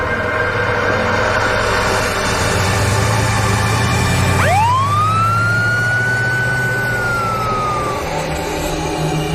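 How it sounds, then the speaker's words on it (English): An ambulance siren wails with a rising, sweeping tone over a low engine rumble, loud and close as the vehicle pulls away from a house, with no talking. "The ambulance is pulling away from the house with Nathaniel in the back"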